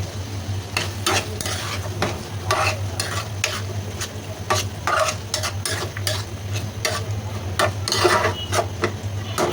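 Jackfruit seeds tossed into spices fried for a loitta dried-fish bhuna, stirred with a repeated scraping rasp over a steady sizzle and a low hum, close and loud, with no talking.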